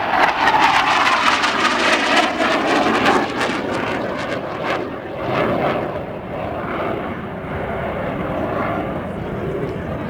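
A fixed-wing aircraft flying a display at Farnborough Airshow roars loudly and close, its engine drone swelling and fading as it passes, then settling to a steadier hum while a commentator talks throughout.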